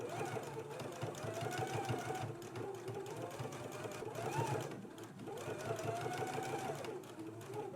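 A sewing machine edge stitches close to a pressed collar band, running steadily and fairly close at moderate volume, its motor whirring with a rapid needle patter and slight shifts in pitch, while a person talks faintly underneath.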